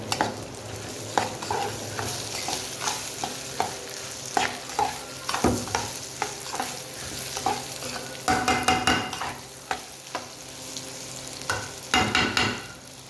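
Rice and salt are stirred in a pot with a utensil, producing repeated scraping strokes over a continuous sizzling hiss, close and fairly loud, with no talking.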